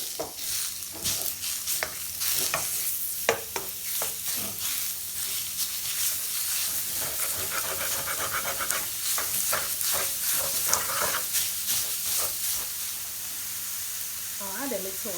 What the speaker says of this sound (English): steaming my minced meat